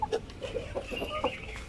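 Chickens on a farm give a few short, close clucks in quick succession, fairly faint over a quiet background.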